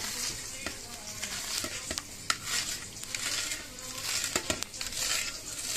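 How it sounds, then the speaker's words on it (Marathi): Masala with turmeric sizzling in a pan for moong dal khichdi, a steady frying hiss broken by occasional stirring clinks and scrapes of a utensil against the pan. "तोपर्यंत आपला मसाला फ्राय होतोय।"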